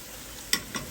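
Chicken being stirred with curry spices in a pot, two quick scraping strokes over a steady low background, without any talking.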